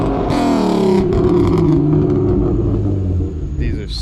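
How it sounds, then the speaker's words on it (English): A 1991 BMW E30's engine revs loudly and close by, a steady rising and falling roar that fills the whole stretch, with a brief voice or two mixed in. "Rev it up for them for the one time."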